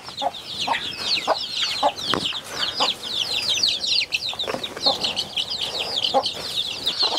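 Hens and chicks pecking at melon, a dense chorus of high cheeping chicks over low scattered clucks and soft pecking thumps, close and continuous.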